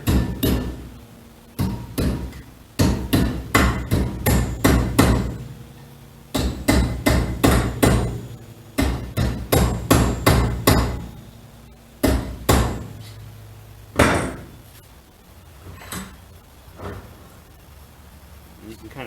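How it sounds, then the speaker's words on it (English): A hammer pounds the end of a sofa spring so it wraps around a screwdriver, making rapid repeated close metallic blows in bursts separated by short pauses, loud and mostly free of talk. "I'm going to pound this down so it wraps around my screwdriver."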